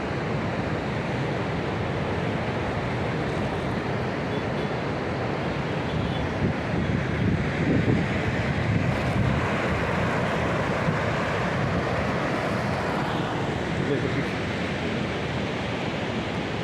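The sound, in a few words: roar of the Ganges river water released from a dam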